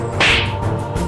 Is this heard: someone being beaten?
yes